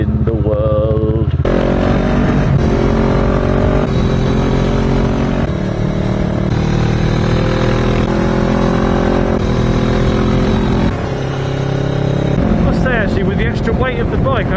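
A loud motorcycle engine droning steadily throughout a road ride, close to the rider, with wind noise over it and a few brief shifts in pitch.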